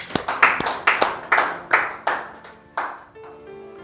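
Sharp, sparse hand claps ring out in a church hall, about a dozen uneven claps with reverberant decay, close and fairly loud, with no talking over them.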